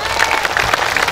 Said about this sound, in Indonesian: Tepuk tangan dulu untuk Trans TV.